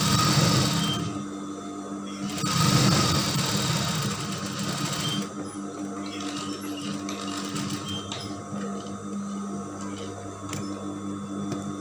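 A sewing machine stitches baggy pants, its rapid mechanical whirring loud at first with a couple of surging runs, then continuing in a quieter, steady hum with light ticking.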